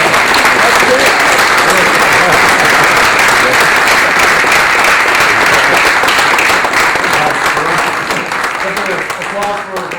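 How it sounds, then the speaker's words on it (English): An audience at a chess event gives sustained, loud applause. The crowded clapping holds steady for about ten seconds and thins slightly toward the close. "Applause for Professor Walter."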